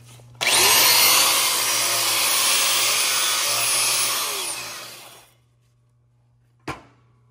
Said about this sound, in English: Hit it with a wire brush and look at it.